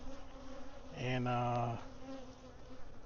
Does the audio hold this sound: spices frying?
no